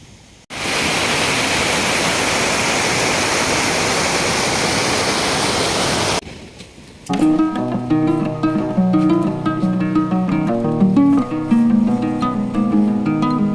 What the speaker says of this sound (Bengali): এখানে শুধু আওয়াজ জল আর জঙ্গলি কিছু পোকার ডাক